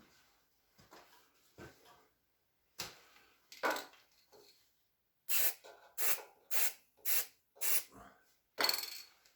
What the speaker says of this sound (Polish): Sprayem pomarańczowym, takim geodezyjnym, przez otwór, który już istnieje, na otwór, który ma powstać.